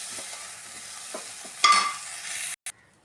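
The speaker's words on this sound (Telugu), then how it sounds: "దీన్ని ఇప్పుడు మంచిగా ఫ్రై అవ్వనివ్వాలండి" Cumin seeds fry in a pan with a soft steady sizzle and a few scraping stirs, then a brief louder hiss and clatter before the sound cuts off abruptly.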